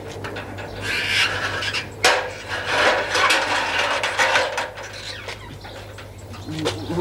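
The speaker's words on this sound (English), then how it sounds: "I'll take the ladder down for you." A ladder is taken down beside a building after window washing, with close wooden and metal scraping, rubbing and clattering knocks over several seconds, one sharp bang midway, and a faint bird outdoors.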